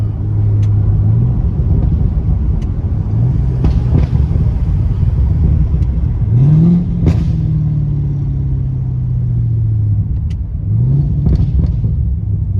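Chevrolet C7 Corvette V8 with a burble tune, idling loudly then revving to around 2100 rpm several times, each rise and fall followed by crackling pops, close and alone.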